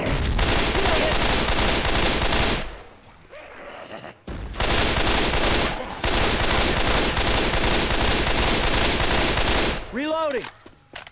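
Sustained bursts of automatic gunfire from the zombie shooter Left 4 Dead 2, loud and dense, broken by short pauses for reloading and ending with a whooping special-infected cry, while players call out over the shooting.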